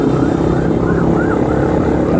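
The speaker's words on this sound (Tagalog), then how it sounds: "Ano kaya yung tatlong ambulansya no?" Three ambulance sirens wail in the distance, a faint wavering tone rising and falling over a loud, steady rumble of traffic or engine noise.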